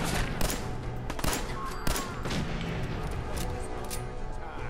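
Gunfire in Fallout 4, several sharp shots in a quick burst, then scattered single cracks over a constant loud bed of combat noise.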